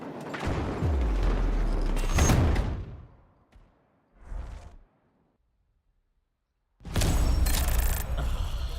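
A frag grenade detonates in a first-person shooter video game, a sharp booming blast followed by rumbling decay, then silence and another loud burst of explosive game noise near the end.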